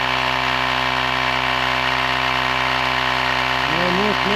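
A small battery-powered motor runs steadily at close range, a constant buzzing drone with a faint warble near the end.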